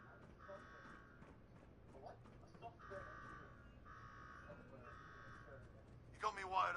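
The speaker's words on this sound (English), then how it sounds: "Now go shut off that damn alarm." A repeating alarm tone blares in Fallout 4, sounding in steady pulses at moderate volume beneath ongoing game dialogue and background noise, with a sharp burst of noise near the end.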